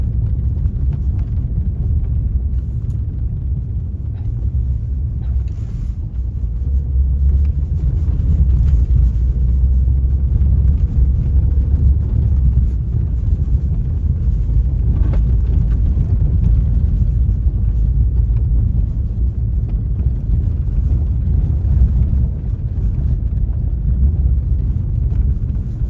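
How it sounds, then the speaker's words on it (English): A Porsche 911 on snow tires with all-wheel drive drives through snow with a steady, loud, low rumble of road and engine noise throughout and no voices. "drive a 911 in the snow? Sure. Snow tires, all-wheel drive."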